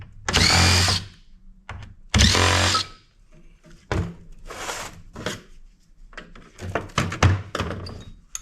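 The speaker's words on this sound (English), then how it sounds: "We'll bust those ferrous screws off of these aluminum heat sinks." A power drill backs ferrous steel screws out of aluminum heat sinks during electronics scrapping, with loud whirring bursts separated by quieter clunks and handling knocks.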